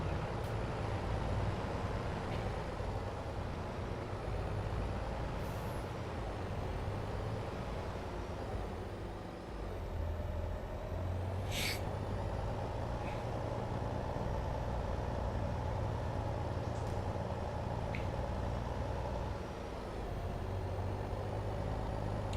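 A truck engine in the video game Farming Simulator 22 rumbles steadily and loudly throughout, a constant low drone with occasional faint hisses like air brakes.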